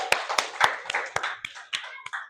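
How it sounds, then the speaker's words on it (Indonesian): A classroom of students claps for a group, about nine distinct, fairly loud claps in a loose, uneven rhythm, close by and without talk. "Tepuk tangan untuk kelompok 5."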